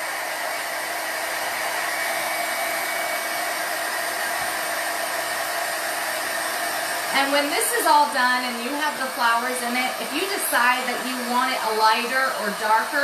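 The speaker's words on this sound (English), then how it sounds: "I'm just heat tooling it." A heat tool blows a steady, loud rush of hot air throughout, and a person starts talking over it about halfway in.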